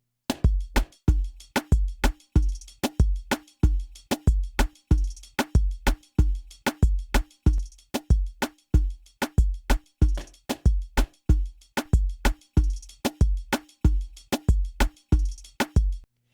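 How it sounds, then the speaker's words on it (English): A steady, punchy programmed drum groove with heavy kicks and crisp snare hits repeating in a tight loop, dense and parallel-compressed at 60% dry and 40% wet, played alone without voices. "this is where we use parallel compression"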